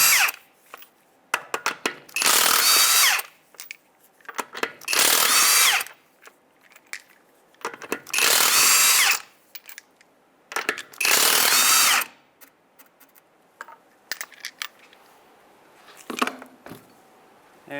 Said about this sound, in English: Go ahead and take off the lug nuts now.